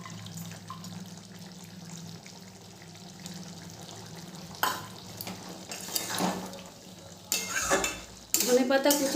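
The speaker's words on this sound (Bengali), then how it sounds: "ধনেপাতা কুচিটা দিয়ে নেড়ে দেবো।" A spoon stirs a dhaba-style okra and potato masala in a pan as chopped coriander is mixed in. After a quiet, low sizzle, scraping stirring strokes come in irregular bursts that grow louder toward the end.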